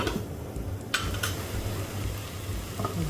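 Okra frying in a covered pan gives a steady, soft sizzle throughout, with a couple of faint clinks of a lid or utensil partway through.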